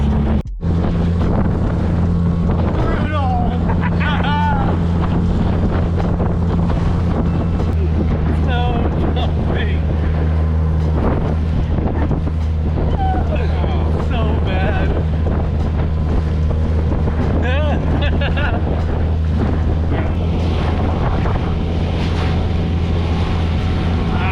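Scout 430 motorboat cruising back toward a cove in Baja, a steady low hull and engine drone with water splashing and heavy wind buffeting the microphone throughout, loud and close, with faint voices at moments.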